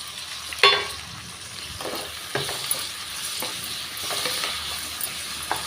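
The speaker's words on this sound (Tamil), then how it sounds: "தக்காளி நல்லா வதங்கி வரட்டும்" Tomatoes sautéing in a pan for a drumstick (moringa pod) gravy, a steady close sizzle and hiss of frying with occasional stirring scrapes and a light clink, no voices.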